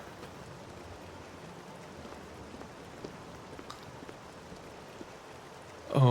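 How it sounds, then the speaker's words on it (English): Soft, steady patter of rain in the video game Oblivion, with faint scattered drops, quiet and continuous, ending in a brief louder burst of sound. "Oh, and it's raining."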